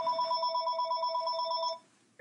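A telephone rings in a home, a rapid electronic trilling bell that carries on steadily for nearly two seconds, loud and close, then cuts off, followed by a short click.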